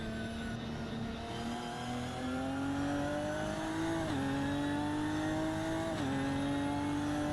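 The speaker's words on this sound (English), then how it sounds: "Lovely sound these Ginettas make on the downshift" Ginetta race cars in a sim racing game at Oulton Park, a steady engine drone that climbs in pitch through the gears with a few quick drops on shifts, heard alone without talk.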